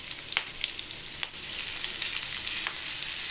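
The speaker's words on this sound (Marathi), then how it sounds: "ज्या हिरव्या मिरची आहे त्या टाकूया आपण," Green chillies and garlic sizzle in hot oil, a steady bright crackle with a few sharp spatters and stirring knocks, close and fairly quiet with no voices.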